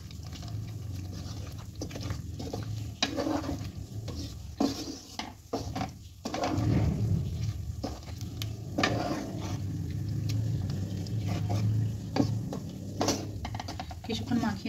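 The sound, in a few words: stirring chicken with fried fenugreek leaves in pan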